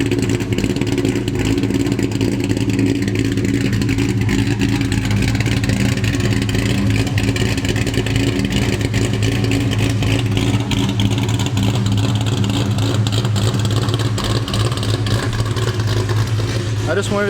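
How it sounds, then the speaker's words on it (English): A Ford Mustang Cobra with a big cam and an Eaton Terminator supercharger idles with a choppy, uneven lope, a loud, continuous close-up engine rumble that holds steady throughout. "getting a tune did not make my cam sound go away"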